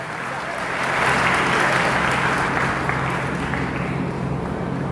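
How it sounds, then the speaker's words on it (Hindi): Rally audience of a youth gathering applauding, a dense crowd clapping that swells after the first second and holds steady, filling the hall with broad, continuous noise. "अभी ताली बहुत कमजोर बजी"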